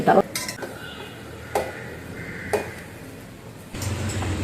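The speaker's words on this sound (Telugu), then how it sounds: "ఇలా పాలు పొంగకోకుండా దగ్గరుండి ఇటుని తిప్పుకుంటానే ఉండాలి" A spoon stirs colostrum into boiling milk in a kitchen pot, with a few sharp metal clinks and scrapes against the pot at intervals, then a soft bubbling rise at the end.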